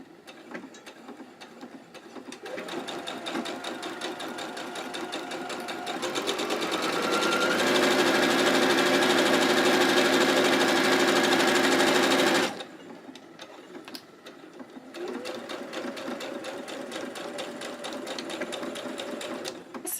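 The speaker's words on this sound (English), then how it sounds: "now I'm going to sew my straight line." A sewing machine stitches a straight line through fabric in a loud, rapid mechanical whir. It speeds up into a steady high-pitched run, stops abruptly, and then resumes at a slower pace.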